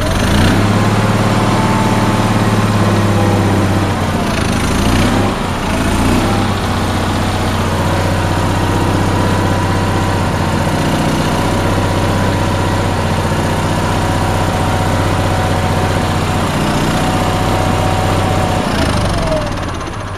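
An Onan engine that runs poorly after a fuel line replacement idles loud and close for about twenty seconds, a steady low drone that wavers unevenly in places.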